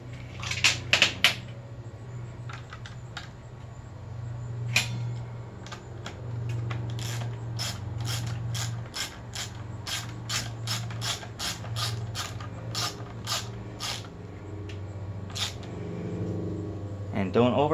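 A Torx T25 driver ratchets a screw tight on an Echo string trimmer, a long run of crisp, evenly spaced clicks, close and clear over a low background hum.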